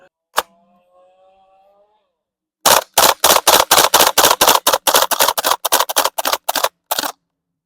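Gas blowback HK UMP45 airsoft gun firing in burst mode, a loud rapid string of about twenty sharp cracks in quick bunches after a single early shot, close and alone without talk.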